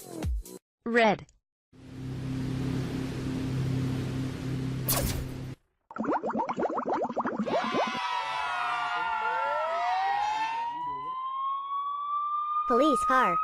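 A cartoon police car siren sounds in wavering, sweeping wails amid busy cartoon effects and a burst of crowd-like noise, ending on a long rising tone.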